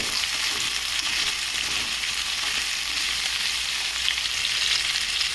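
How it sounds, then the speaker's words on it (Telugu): Chopped bitter gourd pieces sizzle steadily in hot oil in a pan, a dense, even frying hiss that holds at one level throughout with no voices. "ఇలా అయితే వేసేస్తామండి కొద్దిగా వేగనిస్తాం"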